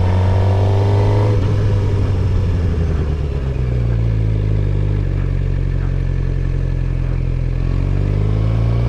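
A beginner rides a motorcycle through tight practice turns, the engine droning loud and close with a steady low hum that shifts pitch as the bike slows, leans and picks up speed again.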